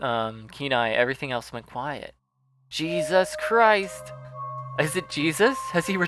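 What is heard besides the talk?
No distinct noise like a dog, phone or traffic.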